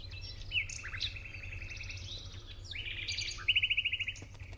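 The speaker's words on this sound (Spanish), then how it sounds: "las chovas piquigualdas y piquirrojas, los acentores alpinos, los treparriscos y otras aves altimontanas" Alpine birds, choughs and accentors, call in the high mountains of Ordesa, with a series of bright chirps and trills at mid distance, ending in a rapid run of repeated notes over a quiet background.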